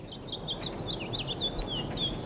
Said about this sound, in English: As the snow melts in New York's Central Park, the birds sing a song of spring.